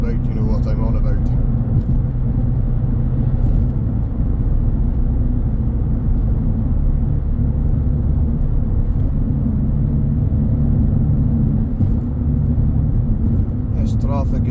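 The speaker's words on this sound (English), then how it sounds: "This traffic is not what I was wanting this morning" Road traffic rumbles past on a morning drive in a continuous loud low drone of engines and tyres, with a person talking over it throughout.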